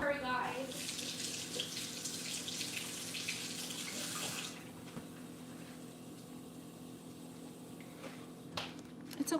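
Tap water runs into a kitchen sink for washing, a steady hiss that drops quieter partway through and continues softly to the end.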